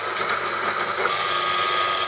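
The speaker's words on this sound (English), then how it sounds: "There's a distinct change to the sound a twist drill makes when it starts to get loaded up with chips" A steady high-pitched whir of a twist drill cutting into metal on a Proxxon PD 250/e lathe, continuous and close, with a faint rising squeal midway as chips load up.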